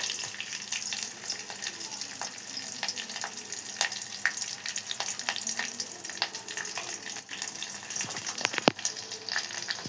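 Dry red chillies crackle and sizzle in hot oil with turmeric, cumin and mustard seeds, a steady close frying hiss dotted with sharp pops and occasional stirring clinks.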